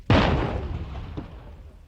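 A landmine explosion set off in a field demonstration: one loud, sharp blast near the start that rolls into a long, decaying rumble, with a smaller secondary thump about a second later.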